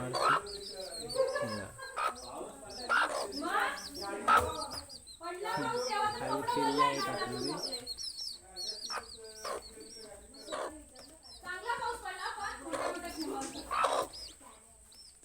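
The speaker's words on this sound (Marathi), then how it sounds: "त्या बघा कोंबडा" Chickens and a rooster cluck and call around a village yard, bird sounds scattered through the clip beneath steady conversation between people nearby.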